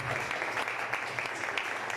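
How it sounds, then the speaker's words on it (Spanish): A congregation applauds in church, with sustained, diffuse clapping from many people at moderate volume and a faint murmur of voices underneath. "creo que un aplauso para el Señor"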